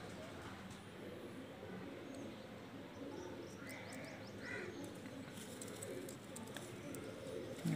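Soft Low flyer pigeon coos and a few calls over a steady outdoor background hum, with faint voices now and then.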